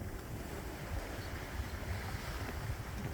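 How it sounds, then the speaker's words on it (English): Water rushing past the hull of a sailboat under sail with the motor off, a close, steady wash of waves mixed with wind buffeting the microphone. "all you can hear is the water as the waves go past."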